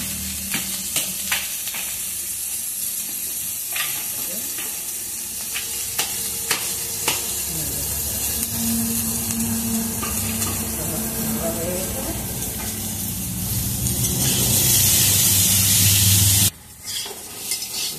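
Potatoes fry in a pan for a Bengali murighonto, a steady sizzle with stirring scrapes that swells into a loud, hissing burst near the end before cutting off.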